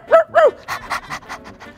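A dog pants in quick, breathy bursts, with two short vocal yips or whines at the start giving way to a rhythmic series of huffing breaths, heard close and alone against a children's show soundtrack.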